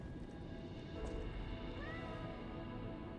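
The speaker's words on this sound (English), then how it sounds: "What's the cat do to me now?" A cat in the video game Lies of P lets out a faint meow, heard over a steady low game ambience.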